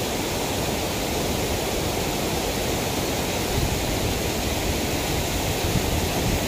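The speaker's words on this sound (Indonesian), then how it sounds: "Ini saringan pertama, air terjun pertama. kemudian terjun lagi di situ" Water pours over the first drop of a dam spillway at Bendungan Putra Jaya, a loud, steady, broadband roar of falling water with no voices.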